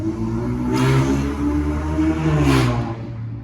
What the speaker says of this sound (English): That is a nasty sounding V6 Camaro.